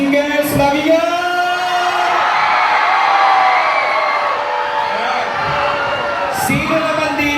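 Crowd of campers at a camp in Zambales cheering, whooping and shouting together, a loud sustained roar of many voices with a couple of sharp yells standing out.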